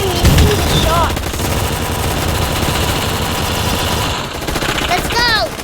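Rapid gunfire from a video game gun fight arena, bursts of automatic shots running continuously at close range with game music and effects layered in, loud throughout.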